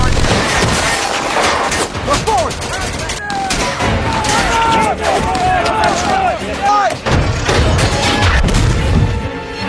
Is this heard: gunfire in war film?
yes